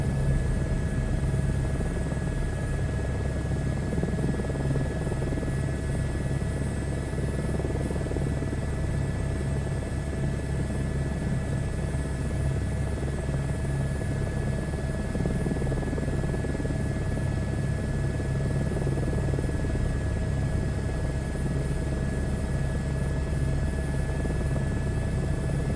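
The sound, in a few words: H125 helicopter flying, from a video game flight simulator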